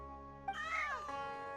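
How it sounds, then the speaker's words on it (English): Cartoonish cats meowing in the Genshin Impact video game, a single clear, close meow that rises and falls over about half a second above a soft musical background, with no talking. "These cats are cute."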